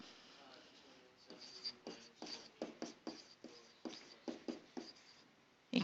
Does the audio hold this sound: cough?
no